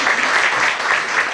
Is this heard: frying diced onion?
no